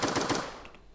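In the video game Rivals, three quick, loud pistol shots fire in succession, then fade into a short ringing tail with a faint metallic clink.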